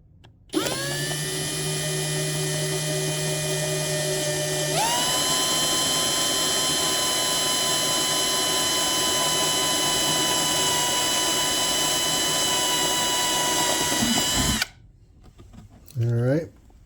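A power drill bores into a Takamine ST212 12-string acoustic guitar during a repair, whining steadily and loud for about fourteen seconds with a pitch shift partway through, then stopping abruptly, followed by brief quieter handling noise.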